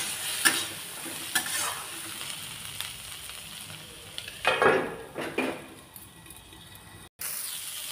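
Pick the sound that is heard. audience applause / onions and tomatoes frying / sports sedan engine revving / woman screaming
onions and tomatoes frying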